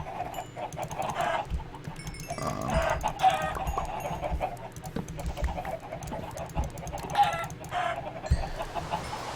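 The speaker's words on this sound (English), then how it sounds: "Look, all the chickens are back." Chickens clucking in the video game Minecraft, several short repeated clucks over a steady game background, with no talk.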